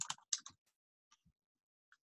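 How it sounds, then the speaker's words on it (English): Typing on a computer keyboard, a quick burst of clustered key clicks at the start followed by a few isolated taps, close and quiet. "So let's just start typing."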